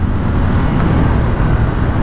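A 2020 Ducati Monster 797+ motorcycle engine answers the throttle with a steady, loud low rumble, mixed with heavy wind buffeting from riding, continuous and close throughout.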